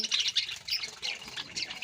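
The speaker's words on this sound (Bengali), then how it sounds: "খুবই সুন্দর গোসল করছে আপনাদের পাখিগুলো" Pet birds bathing in winter squawk and chatter in rapid, overlapping shrill bursts, close and fairly loud throughout, with no talking.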